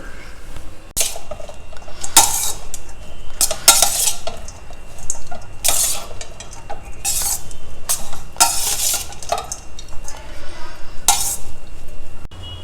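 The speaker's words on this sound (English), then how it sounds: "Now take this Sevai and mix it with the vegetables." Cooked sevai being tossed with mixed vegetables in a wide bowl, a spoon repeatedly scraping and clinking against the sides in uneven bursts, close and fairly loud with no talking.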